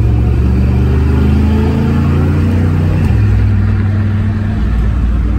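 A car with a 727 TorqueFlite automatic transmission and an Eaton True Track differential holds a loud, steady engine drone that drops in pitch midway, like a shift or easing off the throttle.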